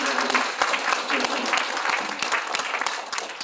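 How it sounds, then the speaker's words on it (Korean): A church congregation at an anniversary gathering breaks into sustained, even applause, a dense and fairly loud round of clapping that continues steadily throughout. "박수."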